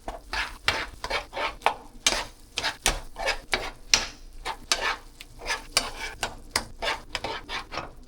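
Tamarind and chili powder are stirred into food in a pan, with a steady rhythm of scraping spoon strokes against the pan over a soft sizzle.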